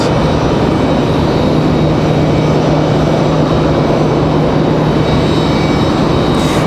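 Aer Lingus airliner at Raleigh-Durham airport, a constant dense jet engine roar, loud and close, unbroken for the whole stretch.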